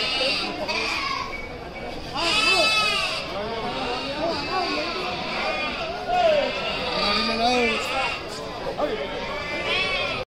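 Sheep and lambs bleat repeatedly at a busy sheep market near Mysore in Karnataka, overlapping calls rising over constant crowd chatter and people talking nearby.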